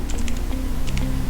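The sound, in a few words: typing on a computer keyboard writing HTML table code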